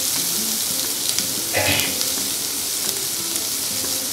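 Onions sauté in a hot pan for Kerala chicken varattiyathu, a dense continuous sizzle with a brief louder hiss midway and faint scraping, close and steady with no speech.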